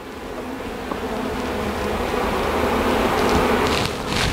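Honey bees buzz steadily around a hive out in the country, a continuous close hum that holds at an even level for several seconds with no voices.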